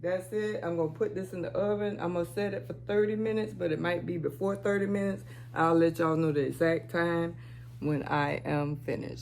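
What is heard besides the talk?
No everyday noises stand out.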